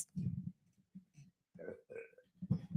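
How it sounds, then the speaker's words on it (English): Low, throaty burps from a man sound close and soft in several short bursts, some blending with voiced sounds, in a quiet indoor setting. "I don't know why I'm burping."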